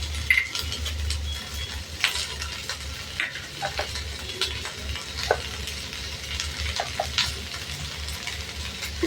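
A bay leaf and ginger sizzle and crackle in hot oil for a restaurant-style paneer do pyaza, with a continuous frying hiss, occasional stirring and utensil clinks, and no talking.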